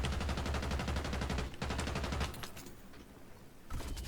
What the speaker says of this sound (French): Le mec, il me tire dessus, je crois, de là-bas, non?